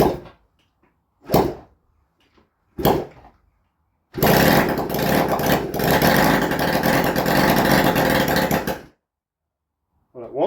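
A Honda CD 175 motorcycle, a barn-find under restoration with the choke on, is kicked over in a few short bursts before the engine catches and runs loudly for several seconds, then cuts out, close by.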